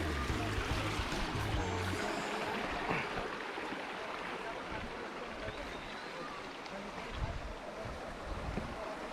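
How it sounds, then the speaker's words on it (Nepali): A jungle waterfall: steady broadband rush of falling water with wind buffeting the microphone, a continuous dense roar throughout, with occasional low rumbles and no clear speech. "ल ए हो झर्ना"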